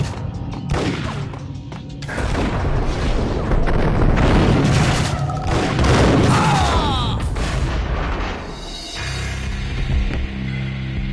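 Gunfire in the Max Payne video game: loud, close shots and booming blasts pile into a dense firefight lasting most of the stretch, easing briefly near the end before flaring again, with faint shouting mixed in.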